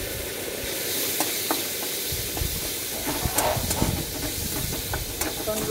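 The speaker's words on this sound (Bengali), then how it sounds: "গোটা গরম মশলা ফুটে গেছে এবার দেবো রসুন" Garlic hits hot ghee already crackling with whole spices, giving a continuous hissing sizzle with sharp pops and spatters scattered throughout, close and fairly loud.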